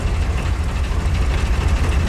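Deep, steady rumble of a PzKpfw VIII Maus tank's engine running in Tank Mechanic Simulator, a loud, constant low throb with no talking over it.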